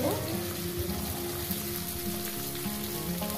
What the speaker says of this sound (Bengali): সুন্দর করে আমি পেঁয়াজটাকে লাল লাল করে ভেজে নেব